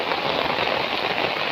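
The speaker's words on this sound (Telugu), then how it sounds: "వర్షం పడుతుంది." Steady rain falls outdoors as a dense, even hiss, moderately loud and continuous throughout, with no voices or other distinct sounds.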